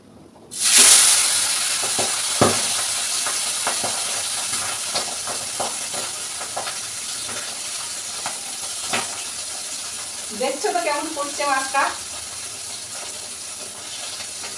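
Fish frying in hot oil, with a sudden loud hiss that starts the clip and then settles into steady sizzling sprinkled with sharp pops and spatters, plus a few brief clattering sounds partway through.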